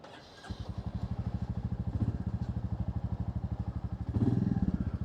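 Royal Enfield Meteor 350 motorcycle engine while riding, a steady, even thumping beat heard close by that swells briefly twice as the throttle opens.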